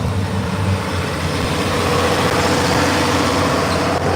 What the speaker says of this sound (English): Tractors keep on coming and going from back there